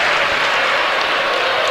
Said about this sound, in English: the crowd gives Robinson a pretty nice round of applause as he comes out